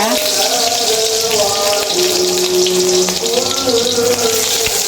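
Garlic and shallots sizzle in hot oil in a wok, a steady dense hiss and crackle that continues throughout, with a voice talking over it.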